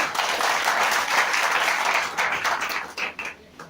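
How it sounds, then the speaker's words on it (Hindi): Loud clapping from a seminar audience at a Maxxwell Herbal income plan presentation, a dense sustained burst that thins out into a few scattered claps near the end. "तो हम चाहेंगे हमारे रिटेल प्रॉफिट के लिए एक बार जोरदार ताली मारिए"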